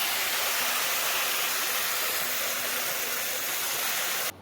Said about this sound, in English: That's the Swiss chard from earlier that I'm rinsing.